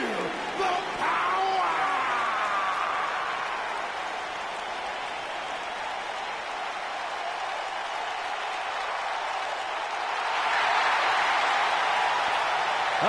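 A large arena crowd at WWE Survivor Series 2018 in Los Angeles applauds and cheers in a steady, sustained roar that swells again near the end.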